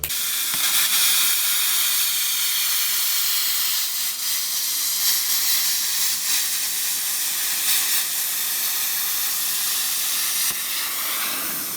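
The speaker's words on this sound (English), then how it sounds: "using a plasma cutter for the very first time" A plasma cutter slices through a metal car tail panel with a continuous loud, bright hiss that holds steady throughout, without pause or speech.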